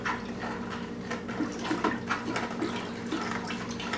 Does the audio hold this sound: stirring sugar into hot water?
yes